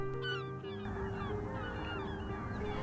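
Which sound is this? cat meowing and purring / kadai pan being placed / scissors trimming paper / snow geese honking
snow geese honking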